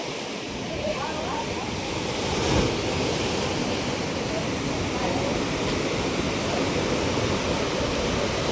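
Sea waves break just behind a room, making a continuous, even roar of surf that stays loud and steady throughout with no clear breaks.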